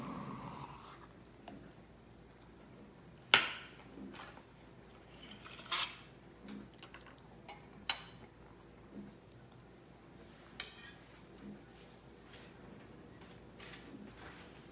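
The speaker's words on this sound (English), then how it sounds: "All right, let's try a spoon." Spoon scraping and tapping against a dish of hot crawfish pie, a handful of sharp metallic clinks and scoops spread out with quiet pauses between them, close and fairly soft.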